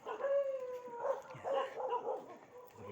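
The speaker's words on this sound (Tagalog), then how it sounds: "Aso rito." A dog barks and howls outdoors, a series of drawn-out yowling cries and whimpering yips in short bursts, moderately close.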